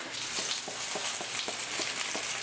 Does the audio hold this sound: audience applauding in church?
no